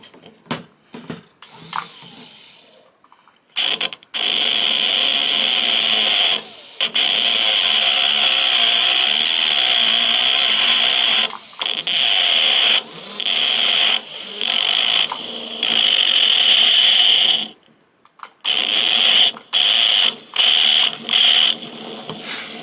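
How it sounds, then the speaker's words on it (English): A flex shaft tool spins a grinding wheel against metal to texture it, giving a loud, steady high-pitched whine in repeated bursts separated by short pauses. "Let's do the grinding wheel"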